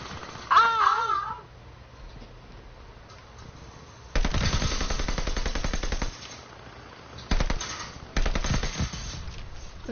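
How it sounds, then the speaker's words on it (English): Minigun fire in a first-person shooter video game, heard as loud sustained bursts of rapid automatic gunfire, two long runs and shorter ones, after a brief child-like voice at the start. "You got a big old minigun."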